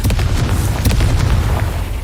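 A Confringo fire spell blasts in Hogwarts Legacy, making a loud, heavy explosive boom that rumbles on for about two seconds with crackling bursts on top.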